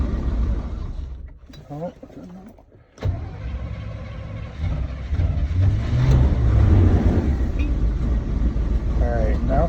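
A Chevy 454 V8 engine cold-starting at -35C: cranking and stumbling, then a brief cutout before it catches and settles into a loud, steady rumble with rising revs, with a short spoken exclamation near the start.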